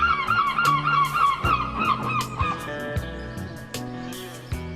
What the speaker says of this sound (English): the birds seemed keen to announce their presence with frequent outbursts